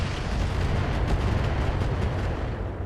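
Weapons fire and missile impacts from LRM ammunition in the BattleTech game mod RogueTech make a dense, unbroken roar of explosive rumble, loud and steady for a few seconds with no voices.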